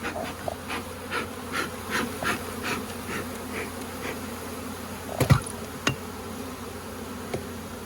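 A steady drone of many buzzing honeybees at an open beehive being smoked, with occasional faint knocks and a sharp clack partway through, no talking.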